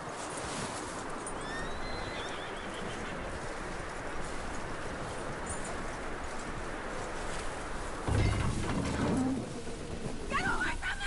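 Horse hooves clip-clopping in a PS4 video game, a steady rhythmic patter under a dense wash of ambient game noise, with a brief shift in background sound near the end.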